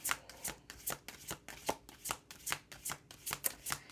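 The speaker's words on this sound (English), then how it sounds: "So I'm going to pull a couple more cards." A deck of tarot cards being shuffled by hand, a rapid, regular run of riffling flutters and soft slaps, close and clear with no voices.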